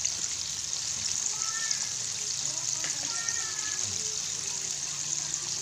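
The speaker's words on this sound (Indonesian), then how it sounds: "Dan usahakan jika mau goreng fried chicken, minyaknya harus banyak supaya tidak langsung menempel di wajan atau dasar wajan ya." Fried chicken cooking in a deep wok of plenty of hot oil over a high flame, giving a steady, close hiss and crackle of sizzling throughout with faint background noise.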